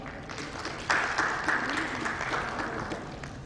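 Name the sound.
audience applause at a healthcare summit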